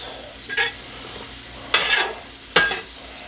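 Ground beef sizzles in its fat on a griddle as a spatula scrapes and stirs it in three quick bursts over a steady low frying hiss, close up and without talk.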